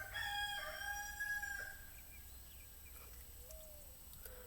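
A rooster crows, quiet and some distance away, with a single drawn-out call over a low ambient hum.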